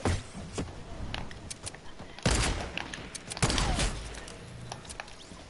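Gunfire in a video game match, including sniper shots, comes as a couple of sharp loud cracks among scattered lighter shots and clicks, with no talking.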